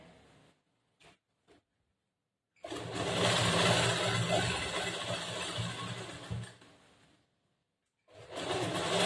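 A sewing machine runs in one sustained burst of about four seconds, stitching the side seam of a cross-cut blouse. A few brief taps come first, then the motor whirs steadily and winds down. A second run starts near the end, with no talk.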